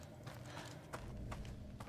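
Footsteps in The Medium video game, a rhythmic series of crunching steps at close range over a steady layer of insect-like cicada ambience, several treads spaced about a third of a second apart.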